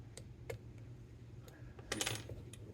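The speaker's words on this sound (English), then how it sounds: "Okay, good ratcheting action in that direction." Ratchet mechanism of a Craftsman torque wrench, freshly cleaned and regreased, giving a few sharp metallic clicks spaced unevenly, then a quick cluster of clicks near the end, close and fairly quiet over a low background hum.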